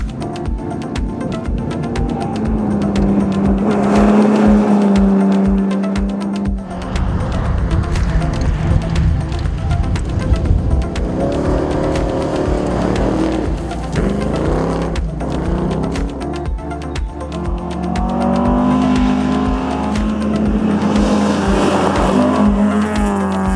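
Rally cars race flat out on gravel stages of a South Australian rally championship, engines roaring loud and close with revving, gear changes and tire squeal, passing one after another without pause.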